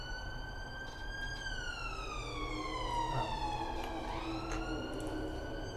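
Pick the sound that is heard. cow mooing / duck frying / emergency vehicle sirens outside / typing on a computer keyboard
emergency vehicle sirens outside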